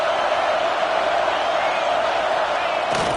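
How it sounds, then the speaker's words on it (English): A stadium crowd at a college football game between USC and Georgia roars in a dense, sustained wall of noise, loud and steady throughout. "here comes the noise. This crowd is trying to inspire this defense to make a big red zone stop."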